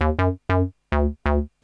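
A Korg Volca Bass set to a single-oscillator square wave plays four loud, buzzy bass notes, each sharply struck and decaying, with short gaps between them.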